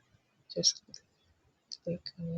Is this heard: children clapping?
no